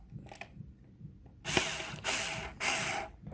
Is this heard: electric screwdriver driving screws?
yes